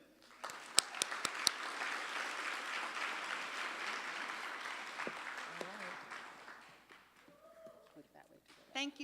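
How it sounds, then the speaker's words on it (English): Audience applause greets two faculty members at a college staff development day, filling the room with dense, steady clapping for several seconds before fading as a voice begins speaking. "Please welcome and give a round of applause to two amazing dedicated faculty"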